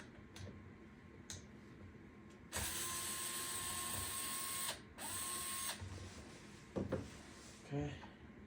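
Screws being backed out of the front motor housing of a Lasko 12-inch oscillating table fan, model FT30-8MBB, with a steady powered-driver whir broken by short ratcheting clicks and a few light knocks, close and fairly quiet.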